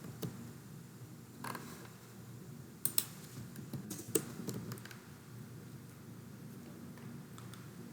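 Computer keyboard typing while entering code for an SAP Fiori SAPUI5 application, scattered soft key clicks with a few sharper taps, fairly quiet and close, no speech.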